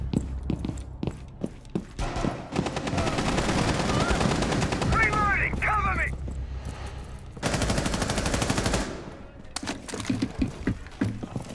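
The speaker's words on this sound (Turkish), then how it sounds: "Dokan sana sıkıyorlar haberin olsun." Rapid automatic gunfire bursts from the Rainbow Six Siege shooter game, loud and repeated in clusters with sharp individual shots, plus brief clatter and footsteps, while players talk over it.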